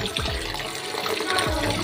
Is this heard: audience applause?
no